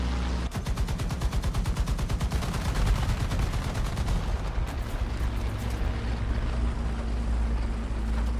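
Gunfire in the War Thunder video game comes as a rapid, loud burst of automatic shots over a heavy engine rumble and dense battle noise, then the firing stops and the roar continues.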